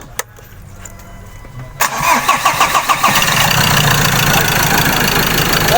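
A Ford Ranger 2.2 engine cranks and catches after a quiet lead-in, with rapid rhythmic chugs that settle into a loud, close, rough idle.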